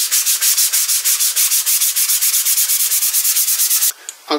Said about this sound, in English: I think I've finished the sanding now.